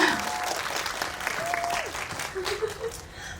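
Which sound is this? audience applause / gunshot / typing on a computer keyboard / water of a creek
audience applause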